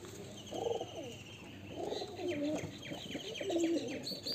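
Domestic pigeons from a Murshidabad hobbyist's loft give three throaty, bubbling coos at close range, mixed with bright chirping from other birds nearby.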